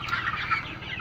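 Backyard chickens on a small home poultry farm cluck and murmur close by in a brief, busy burst of overlapping calls, with no talking.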